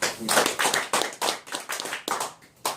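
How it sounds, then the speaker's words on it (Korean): Applause at an annual general meeting of a Korean civic association, a short burst of clapping from a seated group right after a budget approval, dense and fairly close, with no talk over it. "박수로."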